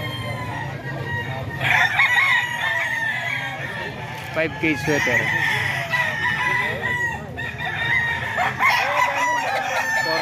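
Several banded roosters crow repeatedly at a chicken farm in San Jose del Monte, Bulacan, with long rising calls overlapping amid clucking and someone talking nearby.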